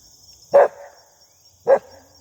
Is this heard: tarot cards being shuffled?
no